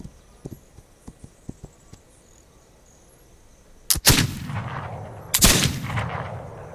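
Two loud, booming gunshots from a firearm in the video game This Land Is My Land, about a second and a half apart, each with a long rumbling tail, preceded by a series of faint, sharp clicks.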